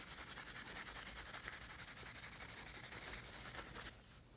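0000 steel wool rubs steadily over a varnished finish on a small backsaw, a dense continuous scratchy hiss that holds close and even, then fades abruptly near the end.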